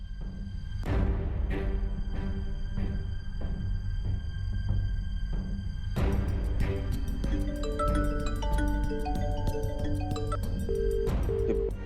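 An electronic phone ringtone plays repeatedly without being answered, first as sparse chimes, then as a busier melodic ring pattern.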